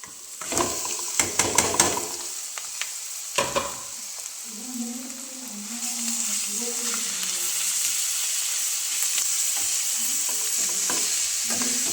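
Greens stirred into a browned mixture in a hot pan, part of a Karnataka soppina palya. A few sharp utensil scrapes and clanks come first, then a steady sizzle with soft crackling carries on at close range.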